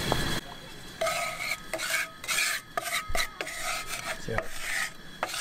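A spoon stirs food around a heated pan in quick scraping, rubbing strokes with short pauses between them, close but fairly quiet, with a light sizzle underneath.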